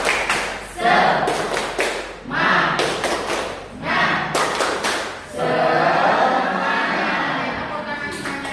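A class doing a rhythmic clapping chant, several loud bursts of group claps and thumps in a patterned beat with voices chanting along, then a longer sustained stretch of clapping.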